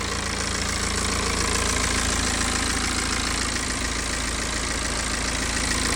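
BMW N47 diesel engine idling steadily after a timing chain repair, a constant low rumble with even mechanical clatter, close and unbroken throughout with no voices.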